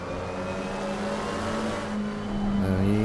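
A race car engine in Assetto Corsa Competizione held at low revs during an endurance race at Spa-Francorchamps, droning steadily with a clear harmonic tone, then shifting pitch near the end.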